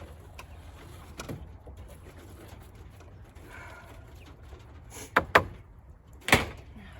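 A quail hutch door is opened and handled over a quiet background, with a few scattered knocks followed by sharp clacks and a louder latch-like bang near the end.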